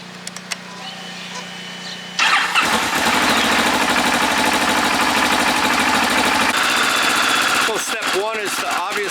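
A 2009 Kawasaki Ninja motorcycle starts up after a short pause and settles into a loud, steady idle to warm up, heard close in a garage with a few faint clicks at the start.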